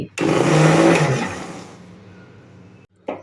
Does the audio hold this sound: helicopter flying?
no